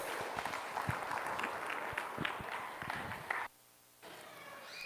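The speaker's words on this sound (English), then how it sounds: "let's give them a round of applause" Crowd applause at a 4-H market goat show, a dense steady clapping wash with some lower thumps, cutting to near silence for a moment before resuming.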